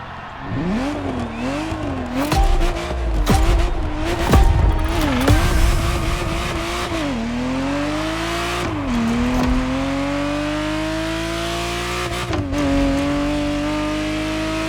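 Ferrari Testarossa in the racing game The Crew Motorfest, its engine revving and shifting through gears with loud, sustained drone and rising pitch sweeps, close and continuous with no talk.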